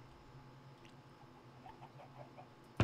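A chicken in the video game Sky Factory 4 gives a few faint, soft clucks over quiet background, followed by a brief louder noise at the very end.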